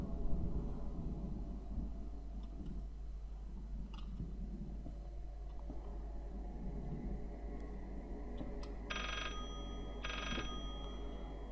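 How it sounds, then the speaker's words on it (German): Telephone ringing in the horror video game Layers of Fear: two short electronic ring bursts near the end, over a low droning ambient background. "Telefon."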